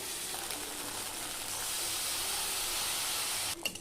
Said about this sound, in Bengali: এইবার এই মশলাটাকে আমি ভালোভাবে কষিয়ে নেব।